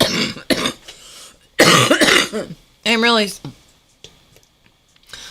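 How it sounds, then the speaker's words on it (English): Several harsh, rattly coughs come in bursts, one strained and wheezy, separated by quiet pauses. "I'm really sorry about this rattly, awful cough."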